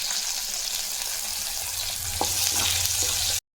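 Green chillies and curry leaves sizzling in hot oil for sambar, a close, steady crackling fry with a brief clatter near the end before it cuts off abruptly.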